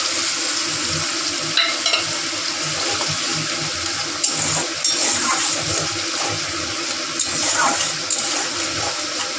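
Mustard paste bowl rinse water poured into a hot, sizzling pan of Bengali curry, a steady close watery hiss and splash with stirring scrapes, no talk.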